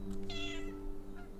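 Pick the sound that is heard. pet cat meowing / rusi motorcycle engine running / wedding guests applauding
pet cat meowing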